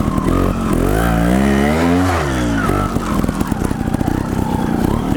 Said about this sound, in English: give it a little gas, and then pin it up the hill. Listen to my bike here.